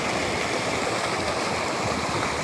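A forest stream rushes in a dense, steady wash of flowing water, close and constant with no voices.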